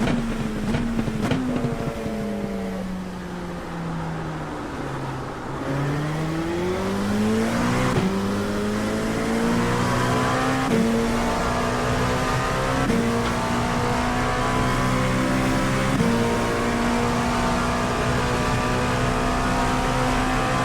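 An LMP2 race car in a racing video game laps Hockenheim in the rain, its engine droning loudly and continuously as it climbs through gears, with repeated upshifts and dips in pitch through braking zones, no talking.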